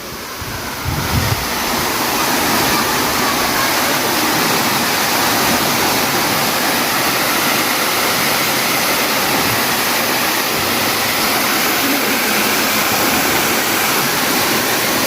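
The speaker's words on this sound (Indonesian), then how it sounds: "Dan sekarang kita berada di bawah air terjunnya ya." Steady, loud roar of a waterfall close by, standing beneath the falls of a newly opened curug in Pamijahan, Bogor, with continuous broadband rushing water and no speech.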